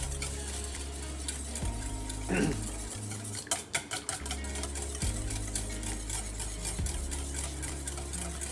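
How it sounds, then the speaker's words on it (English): A whisk scrapes and clinks against a metal pot while hollandaise sauce is beaten, quick repeated metallic taps over a low steady hum, with a brief clatter of utensils midway. "you got to make sure that you constantly whisk, otherwise you run the risk of scrambling the eggs inside"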